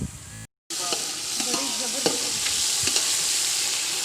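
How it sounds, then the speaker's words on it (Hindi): Onions for chana pulao sizzle and crackle steadily in a hot pan while browning, after a brief cut, a constant frying hiss with small pops and occasional stirring scrapes. "साड़ा जोड़ा प्याज है वो ब्राउन हो रहा है"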